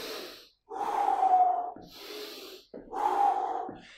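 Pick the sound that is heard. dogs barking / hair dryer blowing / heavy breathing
heavy breathing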